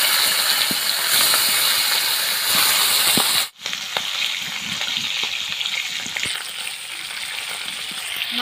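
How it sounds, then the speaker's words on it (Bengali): Rohu fish pieces fry in hot oil in a kadai with a loud, steady sizzle and crackle. The sound drops out briefly partway through, then the frying resumes with no voices. "মাছ ভেজে নিচ্ছি।"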